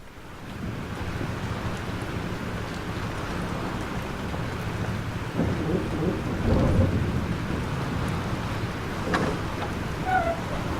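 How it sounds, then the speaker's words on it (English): Steady roaring storm ambience from the video game Life Is Strange: dense rain and wind wash with low thunder rumbles swelling midway. The noise is continuous and fairly loud, with no voices. "This storm is real."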